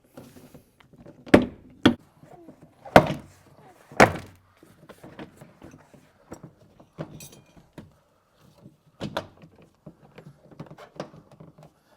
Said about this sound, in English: don't be scared if you hear that loud bang sound. It's just a clip popping out.